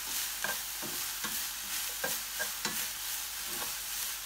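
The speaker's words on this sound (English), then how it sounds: "And just go ahead and mix it all together again." Pasta with garlic, olive oil and black pepper stirred in a pan, a soft sizzle running underneath while a utensil scrapes and taps the pan in irregular strokes, close and alone.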